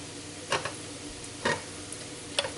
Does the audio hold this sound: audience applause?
no